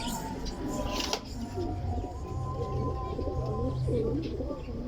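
Pigeons coo softly among a busy background of chatter and rustling, with low murmuring calls repeating throughout.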